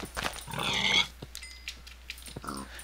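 Pigs grunt and squeal in a modded block-building video game, a short burst of close, loud squealing followed by quieter scattered game sounds.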